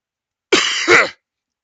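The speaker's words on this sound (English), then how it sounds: "sorry about coughing into the mic like that" A close, loud cough into a microphone, a short two-part throat-clearing burst lasting about half a second, with silence before and after.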